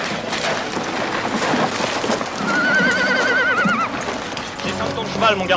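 A horse whinnies loudly with a wavering neigh midway, amid busy outdoor noise and possible hoof clops, in a French-dubbed scene about bringing a horse back to town.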